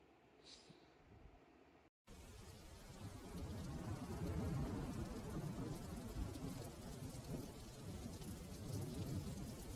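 Steady heavy rain pours through a dark stormy night in the jungle, with low rolling thunder rumbling underneath; a brief fainter passage comes before the full downpour sets in.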